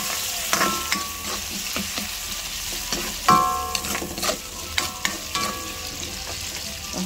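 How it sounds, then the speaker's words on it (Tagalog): Potato pieces fry in a pan for a ground-meat omelette, giving a steady sizzle broken by scraping and clinking as a utensil stirs, close and fairly loud. "piprito muna ng patatas natin"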